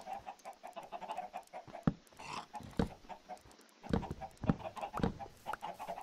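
Chickens cluck in Minecraft, short repeated clucks at a low level, mixed with clicks and footstep-like taps and brief louder knocks.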